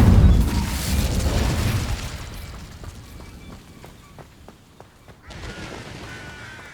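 A fire spell cast in Hogwarts Legacy opens with a loud, deep whooshing burst of flame that rumbles and fades over a few seconds, followed by lighter crackles and scattered thumps, with footsteps and quiet game ambience after.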